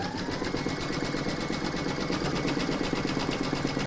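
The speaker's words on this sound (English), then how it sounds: "you're going to load the file into your machine and stitch round number 1, and that's going to give you your fabric placement outline" An embroidery machine stitches a fabric placement outline for an in-the-hoop Christmas coaster, giving a loud, close, steady mechanical whir with a rapid even pulse and no pauses.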